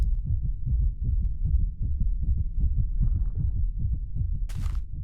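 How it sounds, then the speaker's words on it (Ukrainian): A steady, rhythmic heartbeat thumps continuously in a Minecraft game running the Thaumcraft modpack, low and close, with a brief bright burst of another game sound near the end. "Я чув щойно якесь серцебиття"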